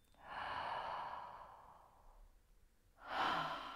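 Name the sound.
breathing during a guided meditation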